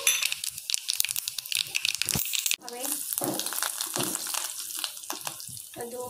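Sesame seeds dropped into hot oil with popping mustard seeds for a handvo tempering, giving a loud crackling sizzle that drops out briefly and then resumes, with faint talk beneath.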